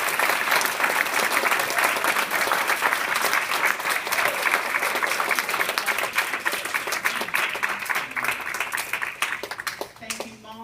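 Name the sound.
students applauding their mothers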